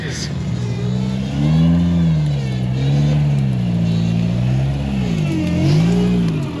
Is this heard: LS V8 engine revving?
yes